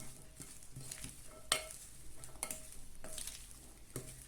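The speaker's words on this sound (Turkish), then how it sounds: "Şimdi hepsini birlikte karıştıralım." Spoon stirring and tossing a Turkish bean salad (fasulye piyazı) with dressing in a bowl, soft wet scraping and clinking strokes in an irregular rhythm, close up with no talking.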